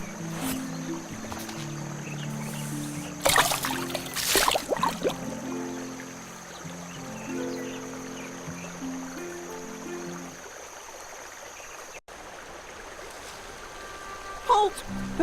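In a video game, a boat sails down a brook with steady trickling water and gentle splashes, a few louder paddling bursts early on, under a soft musical bed.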